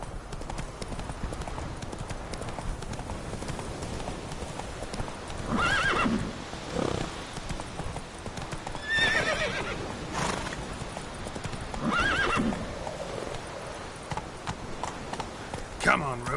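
Roach, a horse in The Witcher 3, runs with steady rhythmic hoofbeats and lets out several loud whinnying neighs, with game ambience and a voice speaking over it.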